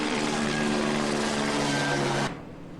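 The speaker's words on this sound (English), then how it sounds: "There's our helicopter." Helicopter flying over the UCLA Medical Plaza in Los Angeles, a steady, broad rotor and engine drone heard from nearby, ending abruptly.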